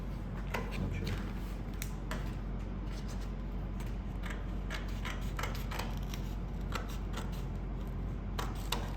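Scissors snip and trim fabric during a tailoring session. Quick, close, crisp cuts repeat irregularly over a steady low background hum, with no voices.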